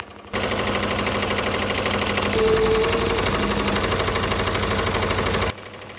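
A Ricoma MT1501 embroidery machine stitches a leather vest steadily at high speed, a rapid, even mechanical chatter that runs nearly continuously before stopping.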